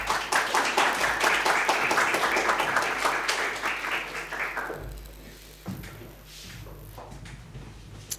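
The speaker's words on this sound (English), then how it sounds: "Applause, please." Applause from a formal audience at a diplomatic tourism presentation, dense and steady for about five seconds before thinning out into scattered claps and room noise.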